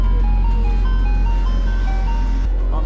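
An ice cream truck's jingle plays a bright, steady tinkling melody over the loud low hum of an idling engine on a city street, close by and continuous, with no talking.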